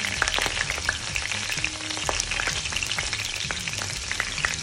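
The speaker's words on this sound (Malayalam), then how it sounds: "കറിവേപ്പില ഒരു 4-5 എണ്ണം നമ്മൾ ചൂടായി വന്ന എണ്ണയിലേക്ക് വെച്ച് കൊടുക്കുന്നുണ്ട്." Four or five curry leaves hit hot coconut oil in a cast iron skillet, giving a steady close crackling sizzle with sharp pops throughout.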